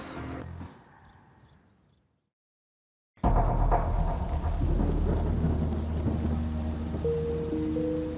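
Rain falls steadily on a South Auckland night as a storm moves in, with a loud, dense wash of rain and deep rumbling after a brief quiet gap, and faint tones near the end.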